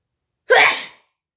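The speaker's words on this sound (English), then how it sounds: "I'm going to sneeze again." A single loud, close human sneeze, a short sharp burst lasting about half a second against silence.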